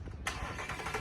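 A 2024 Ford Mustang GT Performance V8 fires up abruptly after a quiet moment, jumping to a loud, broad engine roar that holds steady to the end.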